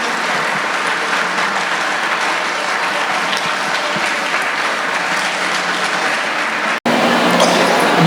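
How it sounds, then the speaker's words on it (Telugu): An audience at a school talent show claps steadily and loudly during a group photo, continuous dense applause with a brief dropout near the end. "ఈ టైంలో మనం చప్పట్లు కొట్టొచ్చండి"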